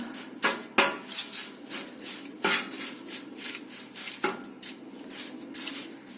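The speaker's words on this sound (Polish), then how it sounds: "Teraz go wyciągnę, trochę przemieszamy. Obrócimy go." Kale chips on a baking tray pulled from the oven and stirred: close clattering, scraping and rubbing of metal, with a few sharp knocks spread over several seconds and no talking.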